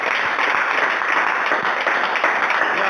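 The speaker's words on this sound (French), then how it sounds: "Applaudissons pour le Seigneur." Church congregation applauding together, a dense, steady wash of clapping that fills the space evenly from start to finish with no pauses.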